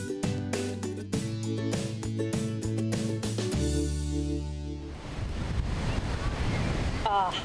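Ocean surf at a Volusia County beach in Florida: after a few seconds of music, a loud, steady wash of breaking waves rolls in, mixed with gusty wind buffeting the microphone.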